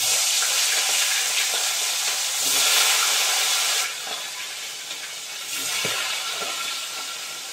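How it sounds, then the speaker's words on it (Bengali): Fish heads frying in a pan give a loud, continuous hissing sizzle that swells and eases in waves, with nobody speaking over it. "মাছের মুড়ো ভাজা করছি"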